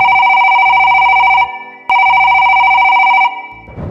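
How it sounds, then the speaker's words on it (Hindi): A telephone bell rings loudly in two long bursts separated by a short pause, each burst a steady electronic trill with a low buzzing undertone, no voices. "इसी दौरान फोन की घंटी बजती है"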